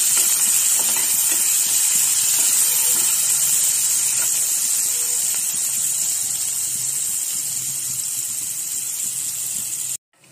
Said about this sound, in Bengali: এই পেঁয়াজটা ভাজা হয়ে গেছে।